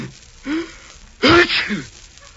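A single close sneeze on a 1947 radio comedy show: a short sharp intake of breath, then an explosive burst with a voiced trailing tail.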